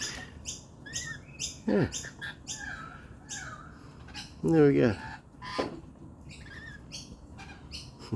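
Pet birds kept indoors squawk and chirp in repeated bursts, with a couple of louder harsh calls, while a person talks softly nearby.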